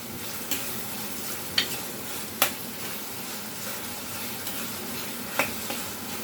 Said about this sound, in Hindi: ये मैं आधी सब्ज़ मिर्ची कटी हुई डाल रही हूँ